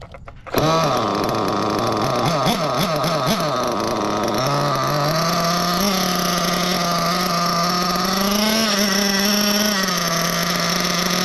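A small nitro RC car engine starts up and screams at a high pitch, revving up and down while warming up before settling into a steady, loud, buzzing idle close by.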